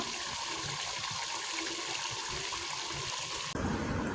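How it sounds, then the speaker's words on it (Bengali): A small amount of water pours into a pigeon meat curry as it cooks, a continuous rushing, splashing stream that shifts abruptly in tone just before the end. "এখন আমি অল্প পরিমাণে পানি দিই তারপর কষিয়ে নিচ্ছি"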